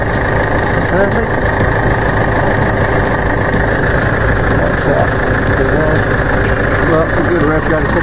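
A 2010 Ford Ranger engine running after a driveshaft repair with new centre bearing and universal joints, a loud, steady mechanical drone with rumbling vibration throughout, close by.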